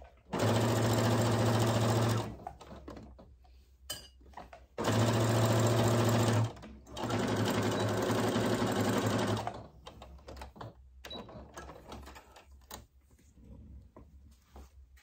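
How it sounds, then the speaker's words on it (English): A home sewing machine stitches through a couple of layers of a stand-up cosmetic zipper bag, running in three steady whirring bursts of a few seconds each, separated by quiet pauses with faint handling noises. "You might actually end up needing to get a new needle on the machine to have a nice sharp needle to go through there"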